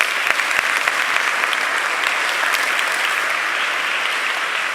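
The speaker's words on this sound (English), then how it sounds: "One more round of applause for these guys." A crowd at a fireside chat event gives a steady round of applause, dense and continuous clapping with a few sharper individual claps near the start, no voices over it.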